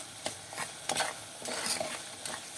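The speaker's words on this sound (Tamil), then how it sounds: "சூடான எண்ணெயில் போடுறதுனால நல்லா போட்டு ஒரு ரெண்டு தடவை நல்லா ரெண்டு மூணு தடவை நல்லா கிளறி விடுறேன்" Moong dal roasts in hot oil for kodo millet pongal and is stirred a few times with a spoon, giving close, repeated scrapes over a steady sizzle, with no voices.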